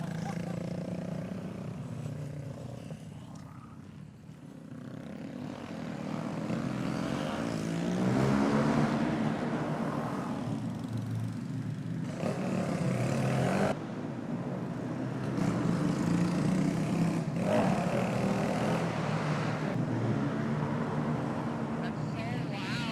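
Several Honda Grom minibikes revving hard inside a big garage, a loud continuous engine roar with rising and falling pitch that swells and surges over about twenty seconds, with people talking underneath.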